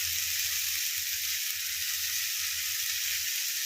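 Chow mein noodles sizzle steadily in a hot pan, a continuous bright frying hiss with a soft low rumble beneath and no voices.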